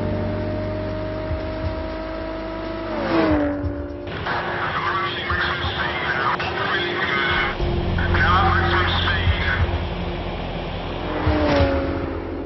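A Jaguar F-TYPE sports car runs at maximum speed, its engine note rising and shifting through loud revving surges while heavy wind and road roar fill the middle stretch. The car is close and dominant, and someone talks over parts of it.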